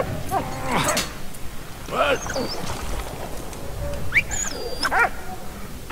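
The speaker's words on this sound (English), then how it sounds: "Good dog." A dog in the World War I video game Valiant Hearts gives several short yips and whimpering whines in separate bursts over a low game soundscape, with a voice talking at times.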